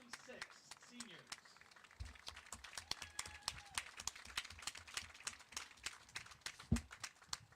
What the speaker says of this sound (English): Let's give a big round of applause for our 2020-26 seniors.